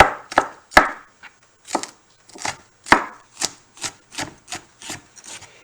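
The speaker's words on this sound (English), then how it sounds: "we're just chopping, chopping, chopping. Doing a crisscross. Basic chop, chop, chop." Rapid knife chops on a cutting board, a steady series of sharp, close taps with short pauses, no voices.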